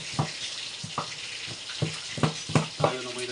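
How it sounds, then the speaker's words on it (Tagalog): Fish frying in a pan during home cooking, a steady crackling sizzle with repeated sharp pops and spatters in an uneven rhythm, fairly close and moderately loud, with no talking over it. "tayo na may nagpiprito ng isda para sabay-sabay na"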